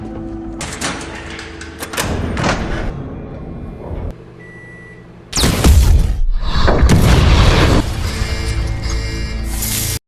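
Film explosions come as sudden loud booms with crashing debris, an earlier burst followed by a larger sustained blast and rumbling that fills the second half.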